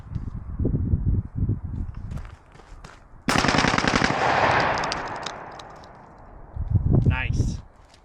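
A 12 gauge shotgun fitted with an FRT trigger fires a loud, rapid burst of shots lasting about two seconds, with talk before it and again as the echo fades.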